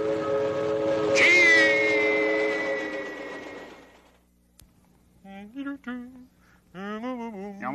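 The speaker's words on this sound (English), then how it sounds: "Train." A train whistle blows loud and sustained over rumbling rail noise, then fades; afterward a few short voice sounds follow.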